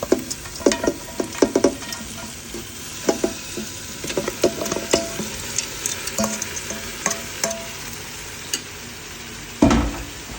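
Goat head meat being stirred into frying masala in a sizzling pan, with repeated scraping and clattering strokes over a steady frying hiss, close up and fairly loud.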